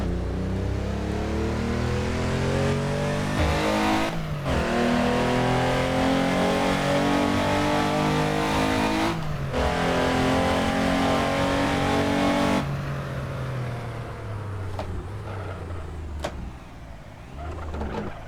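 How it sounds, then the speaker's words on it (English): A Porsche 911 993 engine in the Assetto Corsa racing game roars and revs continuously at high pitch, rising and falling as gears shift, loud and close with no talking. "let's enjoy the noise of this beautiful engine"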